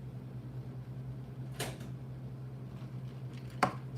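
A door is shut indoors during a live stream in South Carolina, heard as two sharp thuds a couple of seconds apart over a steady low hum, with no talking.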